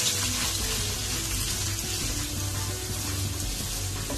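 Onions sizzling in a cup of hot oil in a biryani pot, a steady broadband hiss and crackle that holds close and even throughout with no talk.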